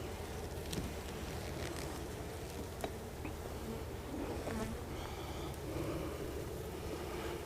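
Dense, steady droning of many honey bees around an open hive during a summer inspection, a continuous close buzz with individual bees flitting past the microphone.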